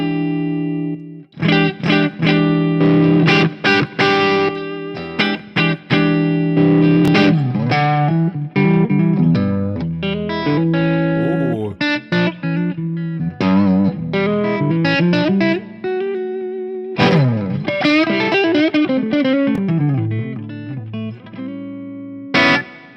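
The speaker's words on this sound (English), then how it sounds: "This is the new Angry Chaka. It is high gain distortion." An electric guitar runs through the Angry Chaka high-gain distortion on a Fractal Axe-Fx III (firmware 29.01), playing dense, saturated chords and lead lines almost continuously and loudly, with only short breaks.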